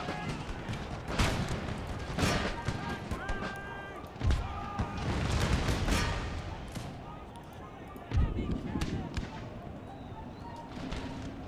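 Musket volleys and artillery fire crack and boom in an Empire: Total War battle, with scattered sharp reports and a few heavier thumps, while someone talks over the fighting.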